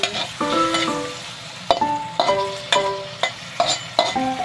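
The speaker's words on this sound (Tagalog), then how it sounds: "Ganyan lang kasimple magluto ng tofu." Taiwanese tofu frying in a pan, with a steady close sizzle broken by repeated sharp clanks and scrapes of a utensil at a rhythmic pace, fairly loud throughout.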